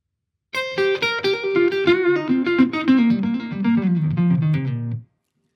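Electric guitar plays a slow blues lick: a single-note phrase with sustained, bending notes sliding downward, about four and a half seconds long, played alone with no talk.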